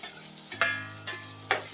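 Tomatoes go into golden-fried onions for pav bhaji, bringing a soft sizzle with three sharp scraping stirs of a spoon against the pan, close and fairly quiet, no talking.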